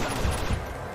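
Gunfire in the video game Uncharted 2 comes as a couple of quick, muffled thuds over a steady background of game noise.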